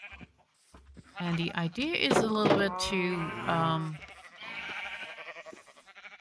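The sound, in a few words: sheep bleating in a video game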